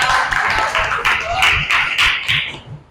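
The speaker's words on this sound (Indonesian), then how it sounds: "tepuk tangan buat kawan-kawan kalian semuanya." A class of students claps in a classroom, a loud, close burst of rhythmic, roughly unison hand claps, about eight or nine distinct beats that fade out near the end, with some voices mixed in.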